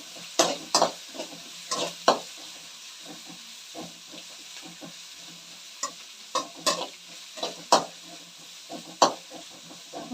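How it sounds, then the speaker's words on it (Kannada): Onions frying for egg rice, a low sizzle punctuated by sharp, irregular scrapes and clacks of stirring in the pan, close and without speech. "ಈರುಳ್ಳಿನ ಚೆನ್ನಾಗಿ ಹುರ್ಕೊಬೇಕು ಸ್ನೇಹಿತರೆ"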